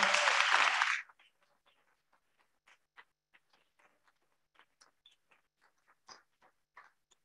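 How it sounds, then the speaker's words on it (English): A short burst of clapping from a crowd at a public input session on Staten Island fades quickly, leaving a few scattered, faint claps trailing off afterward. "let's give them a round of applause"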